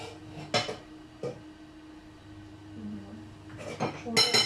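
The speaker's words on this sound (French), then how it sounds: "Je vais me mettre un petit couvercle parce que sinon j'ai l'impression que ça va refroidir" A lid set onto a dish in a home kitchen gives a few sharp metallic clinks and clatters, scattered and close, with quieter handling sounds between.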